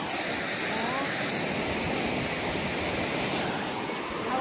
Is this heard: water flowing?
yes